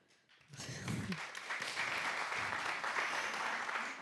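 Audience applause at a French fintech conference on industry financing, swelling from a brief spoken moment into sustained, even clapping from many hands in a room.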